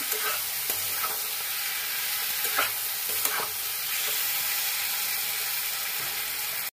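Spices with salt and turmeric being stirred into soft aubergine frying in oil for a Bengali curry, a steady close sizzle with scraping spoon strokes throughout.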